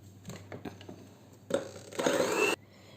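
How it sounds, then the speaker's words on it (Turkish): An electric hand mixer whisks an egg-yolk mixture with spoonfuls of hot water added for a strawberry-pattern roll cake. It starts with light taps, then gives a loud, steady motor whir for about a second before cutting off. "Şimdi yumurta sarılı karışımın içerisine 5 yemek kaşığı kadar sıcak su ekliyorum ve mikserde tekrar çırpacağım."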